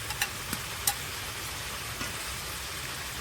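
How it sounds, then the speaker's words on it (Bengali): Meat fries in a pan with ginger, garlic, cumin and dried chili pastes, giving a soft continuous sizzle with a few sharp clicks and spatters near the start and no talking. "মাংসটা ভালো করে ভেজে নিয়েছি এবার দিয়ে দেব আদা বাটা রসুন বাটা জিরে বাটা শুকনো লঙ্কা বাটা"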